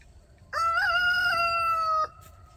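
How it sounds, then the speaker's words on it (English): A rooster on a homestead crows once, a loud, clear cock-a-doodle-doo lasting about a second and a half, close by against quiet background. "here's Mr. Rooster making sure that I am not up to no good"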